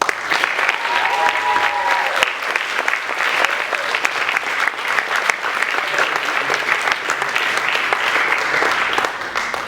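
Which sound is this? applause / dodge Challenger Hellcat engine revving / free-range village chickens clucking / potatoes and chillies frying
applause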